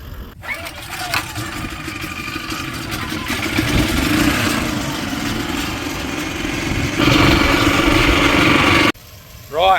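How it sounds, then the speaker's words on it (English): A generator starts and runs to power a water pump at a remote site, a steady mid-pitched engine drone that holds for several seconds, rises slightly, then cuts off abruptly near the end. "I'll hook up the generator and just see if, with the generator on, it pumps more"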